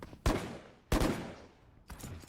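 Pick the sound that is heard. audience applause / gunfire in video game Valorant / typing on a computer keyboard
gunfire in video game Valorant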